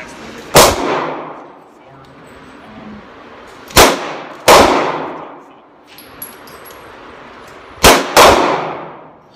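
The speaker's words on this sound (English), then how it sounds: "M&P 45. First 2 shots." Five sharp pistol shots from a Smith & Wesson M&P 45 crack loudly at an outdoor shooting range, spaced irregularly, some in quick pairs, each followed by a brief echoing decay.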